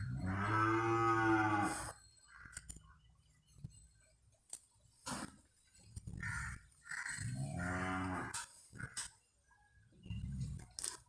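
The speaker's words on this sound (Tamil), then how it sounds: "இங்கே பாருங்கள் காரிக்கண்ணு." A calf at a cattle fair during a temple chariot festival moos in several long, loud, nearby calls with pauses between them, plus a few brief knocks, no voices.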